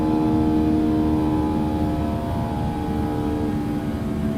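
A FlightFactor 757 in X-Plane 12 fills the scene with its engine buzzsaw, a loud, steady droning roar with layered tonal whine that holds unchanged throughout, with no talking.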